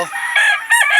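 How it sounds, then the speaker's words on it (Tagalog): A loud, close rooster call in two rising bursts, bright and harsh, with no other sound around it. "Ayan ang manok ni Boxer na pumatay kay Super Nico."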